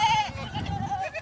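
A goat on a goat and sheep farm in Kenya gives a couple of close, wavering bleats, with faint farmyard noise underneath.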